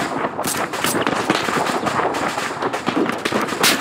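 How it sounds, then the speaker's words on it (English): Rapid gunfire from a video game shootout, dense and continuous with sharp repeated bursts, loud and close throughout with no talking. "Use the machine gun."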